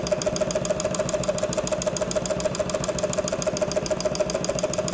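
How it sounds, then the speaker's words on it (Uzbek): A belt-driven servo-motor embroidery sewing machine stitching flowers onto fabric, a fast steady rhythmic needle clatter over a constant motor hum, close and moderately loud with no talking. "Boshqa matoyimizda ham mana gullarni tikib ketyapmiz."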